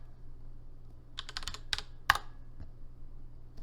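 Login details entered on a computer keyboard, a short burst of quick close key clicks in two clusters with a louder tap, then quiet.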